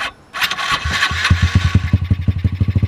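A rebuilt 50cc dirt bike engine cranks with a couple of loud pops, catches, and settles into a fast, loud, steady chugging idle close to the microphone.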